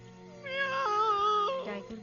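A cartoon tiger voice mimics a cat's meow in Hindi, a single drawn-out, rising-then-falling mew lasting about a second over quiet background, clearly a voice imitating the sound.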